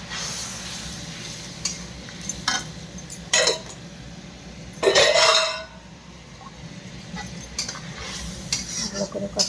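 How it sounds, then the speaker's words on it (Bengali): Soyabean curry with water is stirred and sautéed in a pot, a spoon scraping and clinking against the metal in a few distinct bursts over a low, steady sizzle, with no talk. "জলটা দিয়ে আমি ভালো করে কষিয়ে নেব।"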